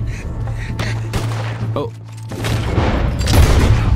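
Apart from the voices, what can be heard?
gunfire from slow-motion shooting in the video game Red Dead Redemption II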